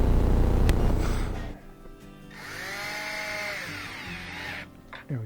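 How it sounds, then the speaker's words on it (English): A power drill drives screws back into a Whirlpool front-loading washing machine during a door boot replacement: a loud burst of motor noise, then a shorter rising and falling whine as the drill spins up and slows. "And we'll put those screws back in."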